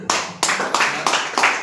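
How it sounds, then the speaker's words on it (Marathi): A group of people clapping in a room, loud close applause in several quick bursts that swell and fade. "अरे वा, टाळ्या"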